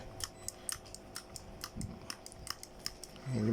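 Soft, rapid clicking ticks repeating in a steady rhythm, close by and fairly quiet, as the handle of a Daiwa Sportline 1000 fishing reel is cranked.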